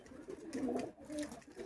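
High flyer pet pigeons give a few soft, low coos in quick succession, faint and close by with nothing else around.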